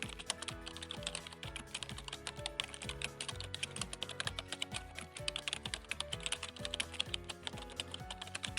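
Steady, fast typing on a computer keyboard, close and clear, with continuous key clicks and no talking.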